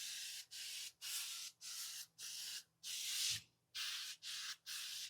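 A spray bottle of cleaner squirts onto the top of a Pit Boss vertical smoker, nine short hissing bursts in a steady rhythm with brief gaps, close and clear with no talking.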